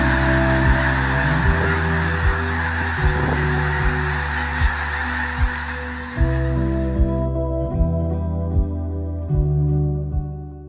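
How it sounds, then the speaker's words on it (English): A large flock of snow geese honks loudly and continuously, countless overlapping calls forming a dense, steady clamor with occasional sharper honks standing out near the front. "Snow geese travel in tens of thousands."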